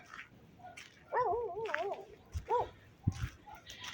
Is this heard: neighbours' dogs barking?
yes